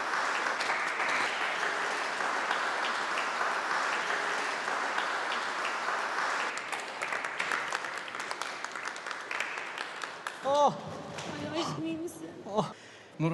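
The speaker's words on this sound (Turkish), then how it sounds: "Güçlükle alkışlıyorlar çifti." A crowd applauds a couple, likely at a wedding, in a long, even wash of clapping that fades into voices talking near the end.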